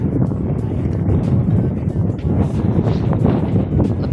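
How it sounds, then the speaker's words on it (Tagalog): Strong wind blows outdoors at a construction site, booming and buffeting loudly and steadily with low rumbling gusts rising and falling. "Lakas po ng hangin dito."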